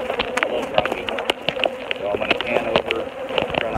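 Honey bees buzzing around slightly aggressive hives during requeening, a close, continuous, loud droning hum with sharp passes of individual bees darting near the microphone.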